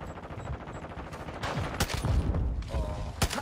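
Marksman rifle gunfire in a video game comes as several sharp, loud shots at irregular spacing over dense, busy game noise and mechanical clatter.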